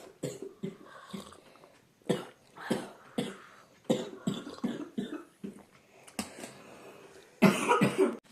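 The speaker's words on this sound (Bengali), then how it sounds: "প্রচণ্ড কাশছে" A sick child coughs repeatedly in short harsh bursts spread across the stretch, with a louder fit near the end, close to the mic in a quiet home.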